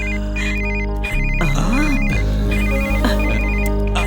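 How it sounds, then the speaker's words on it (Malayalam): A telephone ringtone in a film scene at home plays a repeating, chirpy electronic pattern, loud and close, over background music with sliding tones and no speech. "എപ്പോ വേണമെങ്കിലും ഫോൺ വരാം"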